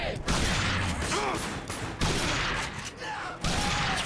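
Shotgun blasts fire in The Darkness 2, several loud booming shots in quick succession with brief gaps, each followed by a short rumbling tail under game ambience.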